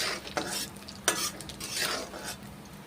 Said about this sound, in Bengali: কাজু বাদামগুলো ভেজে নিচ্ছি একটু লাল লাল করে ভেজে নিচ্ছি কাজু বাদামগুলো